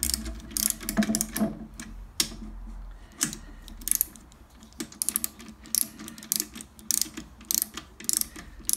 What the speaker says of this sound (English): got my torque wrench set to 24 newton meters, which is the 18 pounds feet, which is the correct torque according to the manual